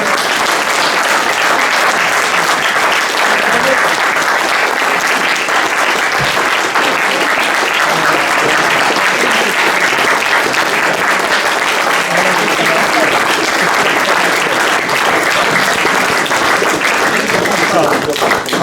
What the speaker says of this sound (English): for all of you to give him a huge round of applause